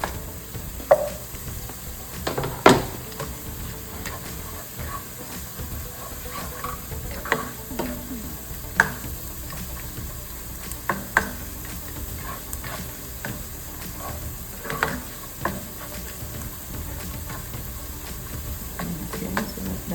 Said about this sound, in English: Okay, so like that. Sauteing.